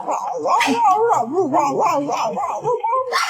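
A black Shiba Inu lets out a continuous, warbling run of grumbling, whining growls close up, rising and falling in pitch, with a sharp yelp near the end.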